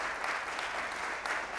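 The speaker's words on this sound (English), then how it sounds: "So let's give them a round of applause and congratulations" A crowd applauds steadily at a NASDAQ closing bell ceremony, a brief dense burst of many people clapping at once, even and unbroken throughout.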